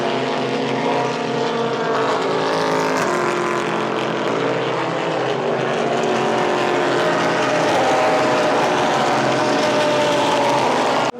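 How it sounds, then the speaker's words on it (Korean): Super GT race cars roar past at Fuji Speedway, a loud, continuous engine din that swells and shifts as packs of cars pass, with no talk over it. "더 빠른 쪽 레이스카 그룹이 그 앞에 그룹을 따라잡은 상태인 것 같습니다"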